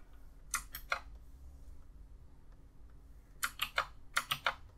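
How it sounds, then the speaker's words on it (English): Two quick bursts of loud, clacky computer keyboard typing, a pause with low hum, then a longer run of sharp keystrokes. "Sorry about how loud my keyboard is."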